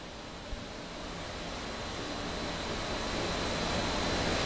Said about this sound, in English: And then we're going to open up number three, slowly filling that line.